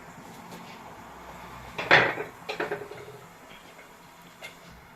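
Knife cuts through a tomato for a homemade kebab: a few sharp clacks of the blade against the board, loudest in one close burst, then lighter taps.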